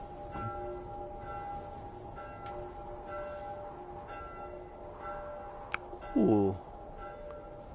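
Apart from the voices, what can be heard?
church bell ringing in video game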